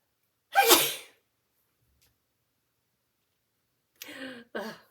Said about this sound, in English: oh, I had to sneeze, hold on